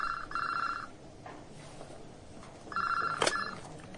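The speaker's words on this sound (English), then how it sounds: "the phone on my desk rang." A desk telephone rings in two distinct bursts, the first just under a second long and the second after a pause of nearly two seconds, each a faint, fairly distant trilling bell over a quiet background.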